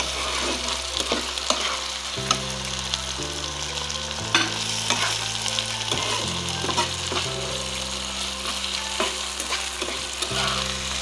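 Dried Rupchanda fish sizzles and fries with spices in a pan, a continuous close sizzle with repeated stirring scrapes, under background music and no talk.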